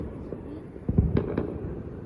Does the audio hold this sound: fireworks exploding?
yes